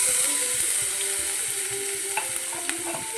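Crushed ginger, garlic and green chili sauté in hot coconut oil for a chicken perattu, giving a steady close hiss and crackle with faint stirring scrapes and no voices.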